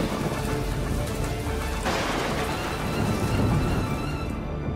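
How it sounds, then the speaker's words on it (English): An ice storm sound effect in a 2000 animated film: steady heavy rain pours, and a rolling thunder rumble swells midway, loud and continuous with no voices. "And that's when the great ice storm hit."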